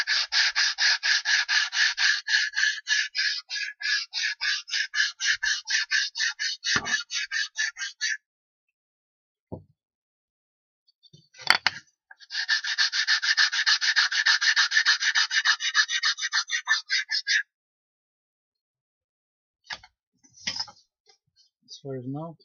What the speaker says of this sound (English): we sand a little bit as well